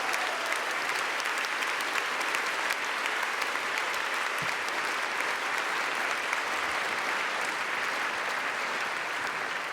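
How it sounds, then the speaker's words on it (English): An opera audience claps for the live sound mixer after a performance. The applause is dense, steady and sustained throughout, with no break. "I think we should have a round of applause for Ian, who mixed that live."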